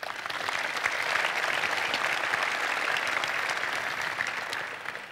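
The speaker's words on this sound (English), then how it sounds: "Let's give them a round of applause." Audience applause fills a large hall at a technology conference keynote, a broad, even roar of many hands that swells quickly, holds steady for about five seconds, then starts to fade.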